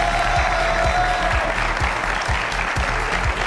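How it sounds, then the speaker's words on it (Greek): A studio audience applauds steadily at the close of a Greek TV game show, dense clapping filling the room at even loudness throughout, with no voices over it. "Να χειροκροτήσουμε λοιπόν τα παιδιά από τη Θεσσαλονίκη που ήρθαν και έπαιξαν στο παιχνίδι μας."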